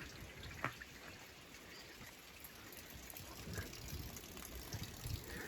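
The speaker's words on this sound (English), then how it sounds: "But here you get to see how it's collecting water." Rainwater trickling and dribbling into a collection pipe during a rain shower outdoors, a steady soft wash of running water with faint drips, fairly quiet, no talk.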